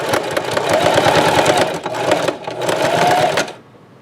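A sewing machine threaded with black thread stitches a potholder purse caddy made from a Dollar Tree potholder, whirring fast and steady with a short dip midway, then stopping abruptly.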